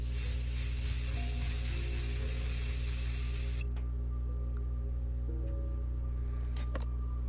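WD-40 sprays in a continuous hissing burst for about three and a half seconds in the horror video game True Fear Forsaken Souls 2, then cuts off and leaves a quiet hum with a few faint clicks.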